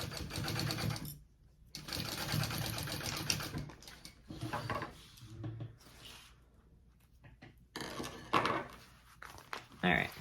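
A sewing machine basting backpack fabric pieces together, running in bursts of rapid mechanical stitching with short pauses between runs, close by, with a voice talking briefly between the runs.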